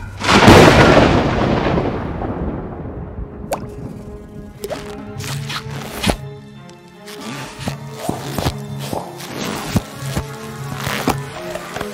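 Thunder in an animated storm scene with hail on the way: a loud crack rolls into a fading rumble over the first few seconds, followed by scattered wet drips and squishy splats.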